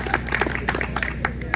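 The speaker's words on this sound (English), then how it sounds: "A round of applause for them." Small crowd clapping for volunteers at a post office ribbon-cutting ceremony, a brief scattering of distinct nearby claps over a low background hum.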